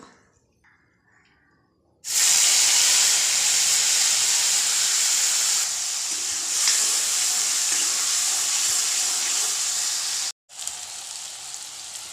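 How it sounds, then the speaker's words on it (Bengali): Onion paste hits hot mustard oil salted in a kadai, bursting into a loud, steady sizzle that holds for about eight seconds, cuts out briefly, then resumes, close and with no talk. "তেল গরম হয়ে গেছে একটু নুন দিয়ে দিলাম তারপরে পেঁয়াজ বাটাটা দিয়ে দিব"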